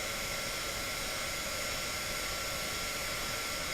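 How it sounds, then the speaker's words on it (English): A heat gun blows steadily over clear embossing powder on a card, a continuous loud airy roar with no breaks. "we're gonna go ahead and get our heat gun"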